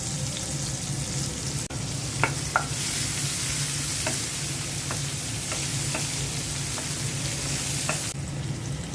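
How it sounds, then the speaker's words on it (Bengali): Onion, garlic and green chili frying in mustard oil in a frying pan, a dense, even sizzle with a few faint clicks of stirring, no voices. "ফ্রাই প্যানে সরিষার তেল দিয়ে দিচ্ছি পেঁয়াজ দিয়ে দিচ্ছি রসুন আর কাঁচামরিচ কুচি দিয়ে দিলাম"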